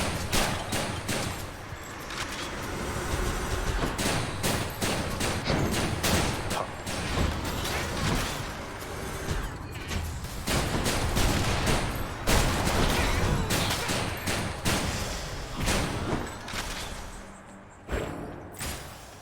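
Rapid shotgun blasts from the video game Hades ring out again and again through a dense, loud stretch of combat, the sharp shots stacking into a near-continuous barrage with few pauses.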